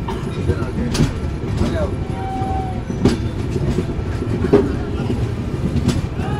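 The 22612 New Jalpaiguri to MGR Chennai Central superfast express pulls into Bankura station. A steady, loud rumble is heard from on board, with sharp wheel clicks now and then and people talking nearby.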